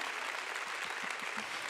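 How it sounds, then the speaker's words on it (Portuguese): Faint applause from a church congregation during a sermon, a steady soft patter of clapping hands that holds evenly for under two seconds. "Vamos aplaudir, eu sempre quis, vale a pena uns aplausos."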